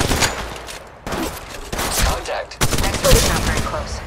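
Rapid bursts of gunfire from enemies hit the player in the mobile shooter Apex Legends Mobile, loud repeated volleys broken by short gaps and layered with in-game sound effects.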